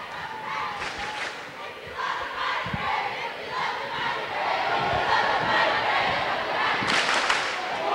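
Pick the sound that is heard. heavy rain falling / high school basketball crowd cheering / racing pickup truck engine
high school basketball crowd cheering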